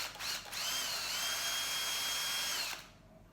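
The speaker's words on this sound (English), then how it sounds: "we're going to put a hole that size straight through this" Power drill boring a hole straight through a plastic crevice-pump body, a loud steady whine lasting about two seconds after a brief start-up burst, then stopping abruptly.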